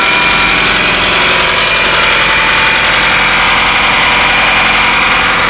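A Toyota Camry 2.2L four-cylinder, 1997–2001, idles with its alternator removed after a timing belt job. The engine runs as a steady, loud, even hum with no voices over it.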